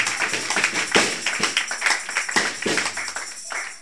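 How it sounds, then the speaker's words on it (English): A church congregation claps in unison during a worship service, a dense, steady burst of many hands with repeated sharp peaks over about four seconds, loud and close, with no talking. "Give a mighty clap of faith to Jesus Christ of Nazareth."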